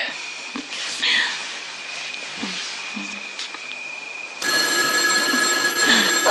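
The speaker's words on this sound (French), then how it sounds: "Oh, le téléphone sonne." A telephone bell rings steadily in a French-dubbed drama scene, its bright tone carrying through a quiet room while voices speak faintly beneath it. The ringing swells louder partway through.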